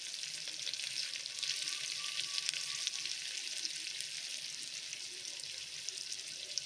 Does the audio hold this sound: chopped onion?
yes